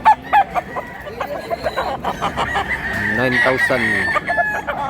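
Roosters crow and hens cluck at a chicken market in Mantalungon, Cebu, several birds calling close by over a busy background while someone speaks.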